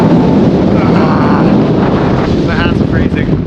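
Strong, very cold wind buffeting the microphone on a choppy Svalbard coast, a constant loud blustery roar with surging water noise underneath and no break throughout.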